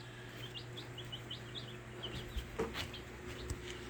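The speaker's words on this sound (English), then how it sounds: "got the biddies in the bird cage now" Young chicks in a big bird cage with a warming light give a quick series of faint, high peeps over a steady low hum.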